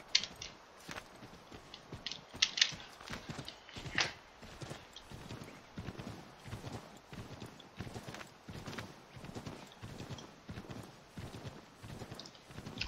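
Horse hooves clip-clop steadily in Assassin's Creed III, a rhythmic walking gait of evenly spaced hoof strikes that carries on throughout at moderate volume, with a few sharper knocks and faint background game ambience.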